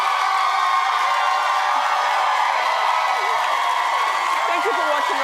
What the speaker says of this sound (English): Who doesn't love the roar of the crowd?